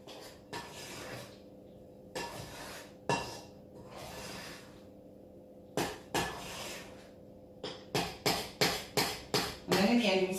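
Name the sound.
spatula scraping the sides of a mixing bowl of muffin batter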